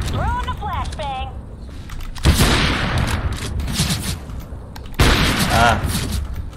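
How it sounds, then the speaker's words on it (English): A flashbang thrown in the CS:GO video game, with two sharp bursts amid game gunfire and effects while a player talks over the noise. "I am throwing a flashbang!"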